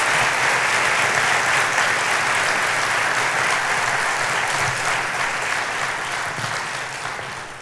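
An audience at a 2016 university fall convocation breaks into sustained, full applause: a dense, steady wash of many hands clapping that slowly tapers off toward the end.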